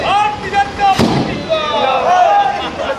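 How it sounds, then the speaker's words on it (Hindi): Celebratory fireworks outside a BJP party office in Mandsaur: one sharp, loud bang bursts out midway through steady crowd noise and overlapping voices. "बीजेपी कार्यालय पे आज आतिशबाजी वगैरह"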